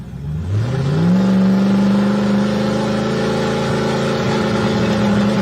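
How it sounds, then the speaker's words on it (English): Two drag cars, a 1972 Dodge Charger and a Pontiac, launch and roar down the strip, a loud engine note climbing steeply then holding a sustained high-rev drone throughout, no talking. "Right-hand side is David Barker's 72 Charger."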